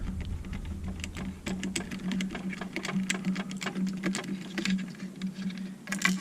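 Motors on a home-built drone spin up on the bench, giving a steady low hum with a dense rattle of quick clicks over it. The sound runs continuously at close range, with no talking.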